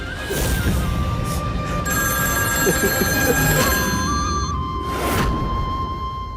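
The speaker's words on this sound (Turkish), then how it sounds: "Telefonu aç arkadaşım hadi." A telephone rings steadily in a Turkish-dubbed drama scene, a sustained electronic ring that carries on for several seconds over a noisy, music-like background with bursts of whooshing effects.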